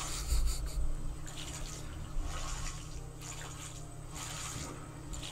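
Water in the video game Raft sloshes and laps continuously, with soft splashing swells and a low rumbling hum beneath, moderately quiet and without voices.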